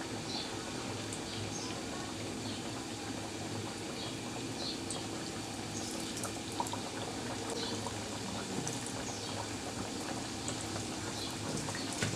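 Chicken patties fry in hot oil with a steady, dense crackle and bubbling hiss that holds evenly throughout, close and moderately loud, with no talking.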